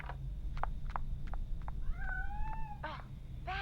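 A house cat meows several times, a string of short chirps followed by longer rising and falling cries, moderately close over a low steady hum with no talking.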